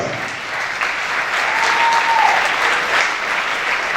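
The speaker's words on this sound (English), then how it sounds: "Let's give them a round of applause." Audience gives a choir a round of applause, steady dense clapping that swells slightly midway and continues to the end.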